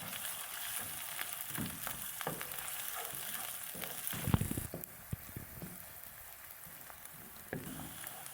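Onions fry in a pan as aloo palak is being made, a soft crackling sizzle at low volume with occasional stirring scrapes and a brief louder clatter midway, and no voices.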